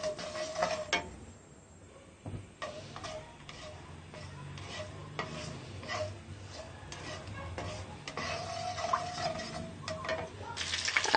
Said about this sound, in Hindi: यह मोटी इलायची, दालचीनी और जीरा और काली मिर्च हम डालेंगे, हल्का सा फ्राई करेंगे।